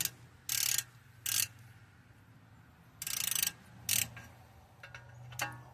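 A hand wrench tightens a ball joint on a 1996 Toyota Camry. It gives several short bursts of rapid ratcheting clicks separated by pauses, close and fairly loud over a low steady hum.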